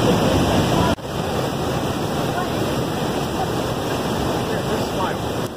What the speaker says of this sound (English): this water is flowing really strong today